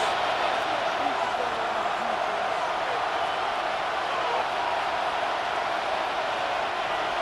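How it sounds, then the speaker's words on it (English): Stadium crowd noise in the Madden NFL 26 video game, a dense, steady roar of fans at a constant level for the whole stretch, trying to force a false start late in the second half. "This crowd, they're trying to force a false start."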